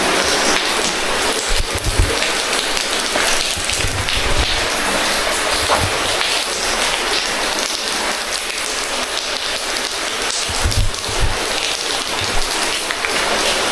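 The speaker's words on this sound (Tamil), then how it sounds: "தண்ணி இப்போ மழை பெஞ்சதுனால தண்ணி உள்ளே வருதுன்னு நினைக்கிறேன்." Water pours and trickles steadily into Belum Caves after rainfall, a constant broadband rushing with occasional low thumps, filling the whole stretch without voices.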